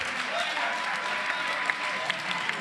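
Audience applause at a Western States 2025 lottery drawing, a steady patter of clapping with a few brighter claps standing out, moderately distant and without a clear roar of cheering.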